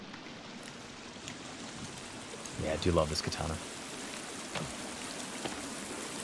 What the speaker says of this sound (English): And we're back to the loud water.